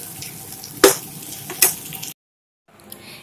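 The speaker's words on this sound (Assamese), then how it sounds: "এইখিনি অলপ সময় মানে ভাজিব লাগিব" Fish intestine and brinjal fry in a pan with a soft continuous sizzle broken by two sharp, louder crackling bursts, before the sound cuts out and then faintly resumes.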